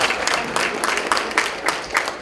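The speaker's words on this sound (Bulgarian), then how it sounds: "Още веднъж искам аз лично да помоля за аплодисментите за" Dense applause from a party crowd in Sofia celebrating a company's 20th anniversary, steady clapping filling the room throughout with no talk over it.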